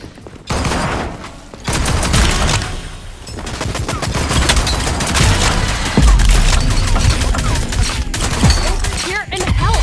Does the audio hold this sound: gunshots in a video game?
yes